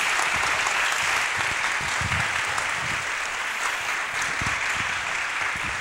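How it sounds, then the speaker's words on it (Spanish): An audience at a business week event claps in loud, sustained applause, a dense even wash of hand claps throughout. "les pido un aplauso"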